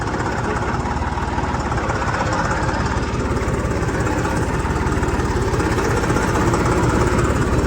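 A Massey Ferguson MF-260 turbo tractor's diesel engine chugs steadily and loudly at close range, its rapid rhythmic knocking continuous throughout with no voices.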